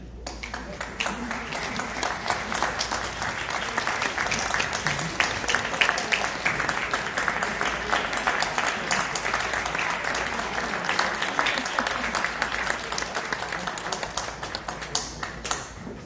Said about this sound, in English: Let's honor your families now with a round of applause and a standing ovation